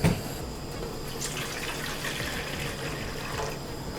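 A continuous stream of tap water pours into a pot for boiling a can, a steady rushing trickle from start to finish with no voices.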